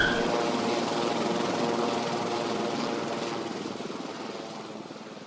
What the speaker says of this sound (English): This helicopter had shown up out of nowhere.